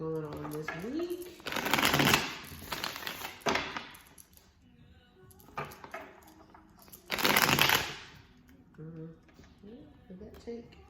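Tarot cards shuffled by hand in two bursts of rapid riffling and flicking, close and crisp, with someone speaking between and around them.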